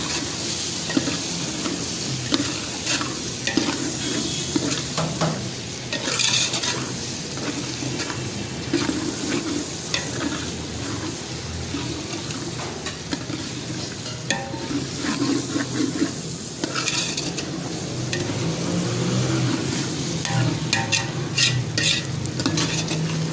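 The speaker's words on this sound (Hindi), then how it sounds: "आप इसको अच्छी तरह से मिक्स करें।" Mixed vegetables stirred and frying in a pan for a restaurant-style mix vegetable dish, a steady sizzle with repeated scraping strokes throughout, close and loud, with no talking.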